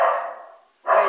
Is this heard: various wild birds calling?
no